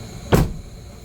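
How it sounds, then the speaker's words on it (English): A single solid thump as the door of a 2012 Cadillac Escalade shuts, short and fairly loud, followed by quiet. "The doors shut good."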